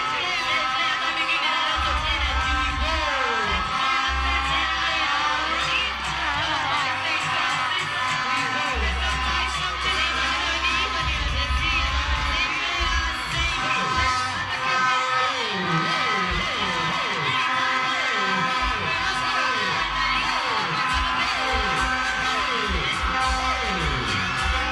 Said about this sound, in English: Cheer for your colors, they need the energy.